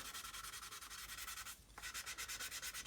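Steady rhythmic rubbing of 400-grit sandpaper by hand, polishing out sanding marks with quick back-and-forth strokes and a brief pause midway, close and fairly loud.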